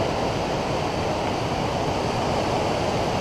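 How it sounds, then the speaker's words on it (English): Steep Mount Whitney Portal Waterfall on a Sierra hike, its fast water roaring in a loud, steady broadband rush that never lets up, close by with no voices. "here's the Mount Whitney Portal Waterfall"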